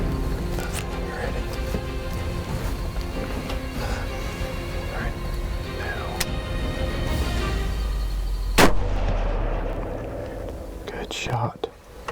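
Hunters whisper quietly before a single sharp rifle shot rings out at a whitetail deer in Central Texas, a sudden loud crack with a deep boom that fades into faint rustling.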